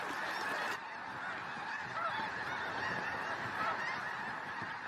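Many geese honk loudly and continuously as a flock flees approaching eagles, a dense overlapping chorus of calls with a brief louder burst at the start and no speech.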